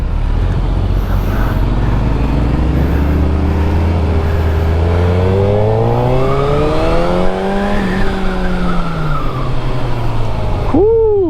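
A Suzuki Hayabusa sport motorcycle accelerates hard, its loud engine note climbing steadily through rising revs, then a quick gear change and another sharp surge, heard close over constant wind rush.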